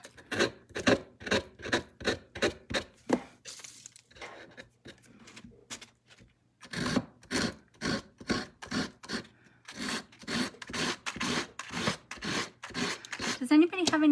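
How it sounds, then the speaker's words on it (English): Hand sanding with a worn sanding block, quick rhythmic rasping strokes in bursts, stopping for a pause before resuming, with a voice speaking between and over the strokes. "I think my sanding block is a little worn."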